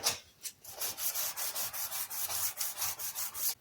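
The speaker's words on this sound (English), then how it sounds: "I'm giving these surfaces a good clean with isopropyl alcohol now. I've already wiped them down once." Close rubbing and wiping of surfaces with isopropyl alcohol on a DIY window install in a 23 ft boat, a steady series of brisk cloth strokes repeating in an even rhythm with no talking.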